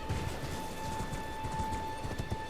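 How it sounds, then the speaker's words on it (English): A horse runs by in a video game with quick, soft hoofbeats in an irregular clip-clop, set against a steady tonal hum of background music. "those birds are remarkably calm for a horse running by them"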